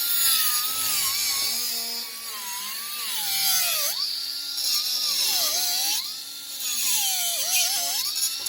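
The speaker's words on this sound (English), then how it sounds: "I gotta grind all the welds down." Angle grinder working the welds on a John Deere corn head, a continuous loud whine that rises and falls in pitch as the disc bites and eases off the metal, with no talk over it.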